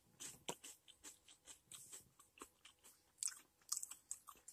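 Close, crunchy chewing of a chocolate wafer roll, a steady run of crisp bites and mastication over several seconds.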